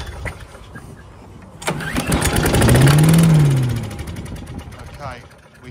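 Billy Goat small engine sputtering to life after a pull-start with carb cleaner sprayed in, catching with a sudden burst, revving up into a rough buzzing run, then settling lower; a voice is briefly heard around it.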